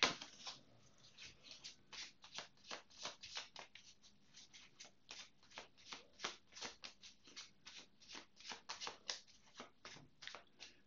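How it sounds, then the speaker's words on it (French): A deck of tarot cards being shuffled by hand, a close, steady run of crisp riffling flutters and soft slaps repeating throughout, with no talking. "Nous allons mélanger un peu les cartes ici."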